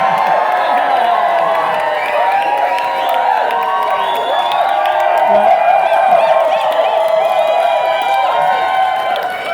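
Wedding guests at a reception clap and cheer in a dense, steady crowd roar with whoops and shouts, loud and sustained throughout with no break.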